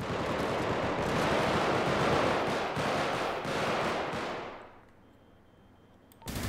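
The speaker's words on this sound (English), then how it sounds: "Yeah, they shooting at me." Sustained, dense gunfire rattles loudly in the GTA roleplay video game, a continuous burst of rapid shots that cuts off and leaves near silence before a brief final crack.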